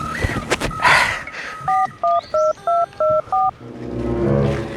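A phone number is dialed: about seven evenly spaced keypad tones beep in quick succession, with some rustling handling noise before and after.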